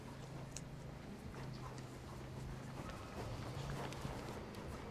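A horse's hooves strike the arena ground during dressage work, a soft, steady rhythmic clip-clop at moderate distance under faint background ambience.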